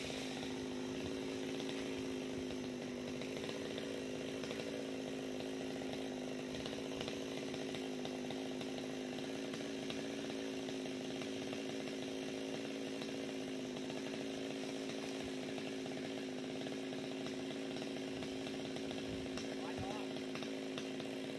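A chainsaw runs steadily on a huge dáng hương tree, a constant droning engine note at moderate distance lasting the whole stretch, with people talking over it.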